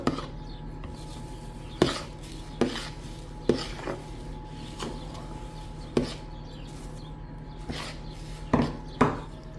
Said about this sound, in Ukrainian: тепер туди додаю кокосову стружку і умішую її у білки